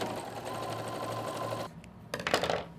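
A sewing machine runs a seam on a cooling wrap, a fast steady whirring stitch that stops partway, followed by a few quick clattering mechanical clicks and handling sounds close by.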